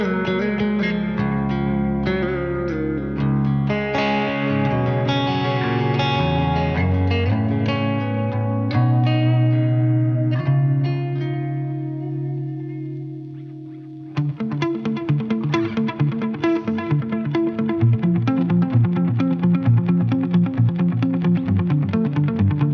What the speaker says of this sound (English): It's a really, really good tape echo